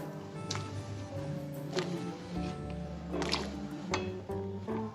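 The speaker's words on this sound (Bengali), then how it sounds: "জলটা হালকা ফুটতে শুরু করেছে, এবার আমি এর মধ্যে আমের টুকরোগুলো দিয়ে দিলাম" Raw mango pieces drop into gently boiling salted water in a pot, making soft wet plops and squishes over a low bubbling simmer.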